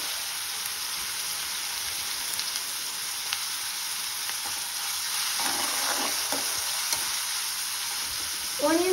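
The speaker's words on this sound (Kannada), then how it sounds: "ಆನಿಯನ್ ಸ್ವಲ್ಪ ಫ್ರೈ ಆಗ್ತಾ ಇದೆಲ್ಲ" Onions with salt fry in a pan for dhaba-style egg keema, making a soft, even sizzle like light rain throughout, with faint stirring scrapes and a louder scrape at the very end.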